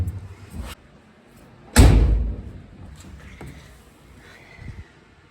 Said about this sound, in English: Let's see how the door closes.